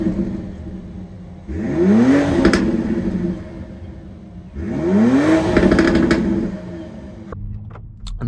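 A 2025 BMW X3 M50 accelerates hard on the road, its engine note rising in two loud surges, each climbing through the gears before easing off, heard from inside the cabin.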